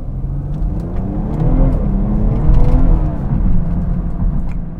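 A Dinan-tuned 2016 BMW 340i xDrive with over 400 bhp accelerates hard, its engine note climbing and swelling in loudness over several seconds, heard from inside or near the car with no talk.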